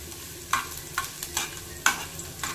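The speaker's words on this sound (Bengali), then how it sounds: "এবার তেলটা গরম হলে এর মধ্যে দিয়ে দেব বেশ কিছুটা থেতো করা রসুন। রসুনটাকে কিন্তু সুন্দর করে ভাজতে হবে।" Crushed garlic frying in hot oil for a kolai dal tadka, a steady soft sizzle broken by several sharp spatula scrapes against the pan at irregular intervals, close and without talk.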